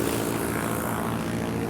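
Propeller airplanes with passengers aboard for an elephant census, engines running in a loud, steady, droning roar with a throbbing low hum and broad hiss that never lets up, close by, with no talking.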